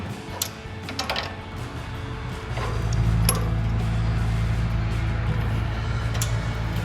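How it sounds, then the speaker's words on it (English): A crescent wrench tightens sway bar end links on a RAM 2500 truck, giving quick metallic clicks and ratcheting near the microphone, followed by a steady low mechanical hum. "we're going to tighten these end links down"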